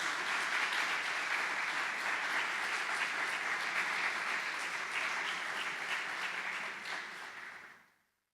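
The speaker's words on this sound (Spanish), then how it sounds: "Dale un aplauso al Señor." A church congregation breaks into sustained applause, a dense, loud wash of many hands clapping that holds steady and then fades out near the end, with no one talking.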